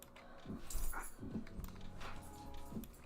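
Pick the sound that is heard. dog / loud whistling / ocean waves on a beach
dog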